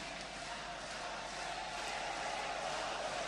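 A large crowd at the 1992 Thomas Cup badminton final between Indonesia and Malaysia, a steady, dense roar of cheering and shouting that fills the arena without letting up.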